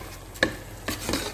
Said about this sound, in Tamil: அரிசி போட்டு லைட்டாக ஒரு கிண்டிடுவோம்.